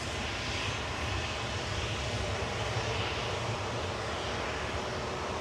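A Tui jet bound for Palma de Mallorca sits lined up on a Manchester Airport runway, its engines giving a faint, distant, steady hum and rumble with no one talking.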